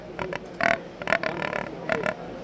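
Hand-held boar call imitating a wild boar: a few short, nasal grunts in quick bursts, close and moderately loud over a rough, noisy background.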